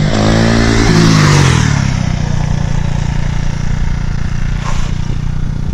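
A 1000cc touring motorcycle fitted with a Kawasaki Z1000 sport engine, loud and close, revs up briefly, then drops back to a rough, steady idle with mechanical clatter.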